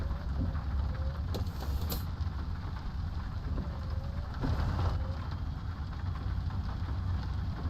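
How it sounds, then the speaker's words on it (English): Heavy rain drums steadily on a truck cab in Euro Truck Simulator 2, joined by the faint rhythmic sweep of windshield wipers, a dense constant wash with a few brief higher squeaks. "We are not going to hear the engine over this. The rain and the wipers."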